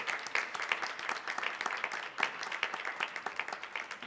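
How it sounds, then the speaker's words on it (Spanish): An audience applauds the actors of a live radio drama production, a steady dense patter of hand claps at moderate distance lasting throughout, with faint voices underneath. "aplauso para las actrices y los actores"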